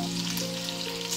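Chicken frying in a pan with spices and soy sauce, a brief steady hiss of sizzling close up alongside a constant low hum.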